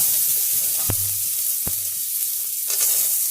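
Curry leaves, mustard seeds, cumin, urad dal, onion, green chili and ginger sizzle in hot oil for a dumpling tempering. A steady close crackle with two sharp pops, no talk.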